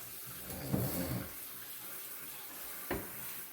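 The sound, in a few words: washing bok choy in sink with cold water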